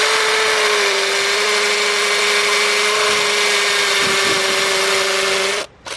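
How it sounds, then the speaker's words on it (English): A power drill whines steadily at high pitch as it bores into concrete in a garage, grinding continuously for several seconds before cutting out abruptly near the end. "I have to go like as deep as this damn drill bit too"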